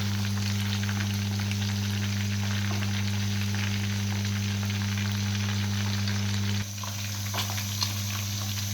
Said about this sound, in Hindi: ताकि अंदर से भी अच्छी तरह फ्राई हो जाए।